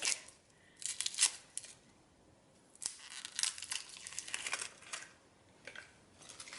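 Dry onion skin being peeled back by hand in a kitchen, a run of close crackling, tearing and crinkling bursts with short pauses between, with no talking.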